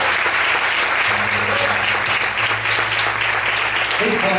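Church congregation clapping together during a worship service, a dense, steady wash of applause lasting throughout, with a low sustained musical tone and faint voices beneath.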